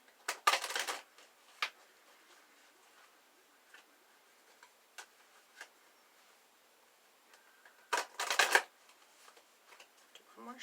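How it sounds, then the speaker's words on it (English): Two short bursts of fairy oracle cards being shuffled, one near the start and one near the end, with faint scattered ticks and taps between them. "Do one more shuffle."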